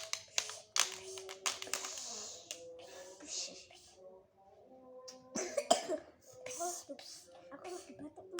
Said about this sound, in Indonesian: Aku lagi batuk teman-teman sama pilek.